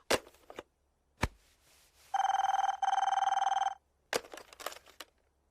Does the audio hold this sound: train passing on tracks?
no